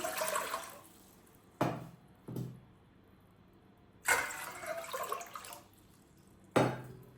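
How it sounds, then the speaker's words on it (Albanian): Two litres of water poured into a cooking pot, heard as several separate gushing splashes with pauses between, each starting sharply and trailing off, close and fairly loud with no talk. "Tash marr një tenxhere dhe në të shtoj 2 litra me ujë."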